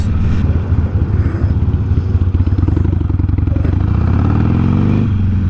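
A Harley-Davidson Sportster ridden along the Pacific Coast Highway, a loud, close, rumbling V-twin engine with a pulsing exhaust beat that rises as it accelerates, with no talk.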